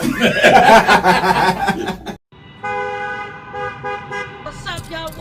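A car horn toots in stuck road traffic, a sustained horn tone following a burst of loud talk and laughter, then holding steady near and fairly loud with faint chatter around it.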